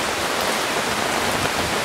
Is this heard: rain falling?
yes